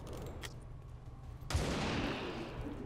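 A single sharp gunshot rings out in XCOM 2, sudden and loud after a quieter stretch, followed by a decaying rumble, with no talking.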